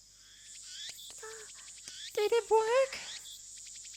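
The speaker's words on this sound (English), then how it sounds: "The only sound is the chirping of cicadas." Steady high cicada chirping from the visual novel Steins;Gate runs as a bed throughout, with a brief spoken question and a few other voiced game sounds over it.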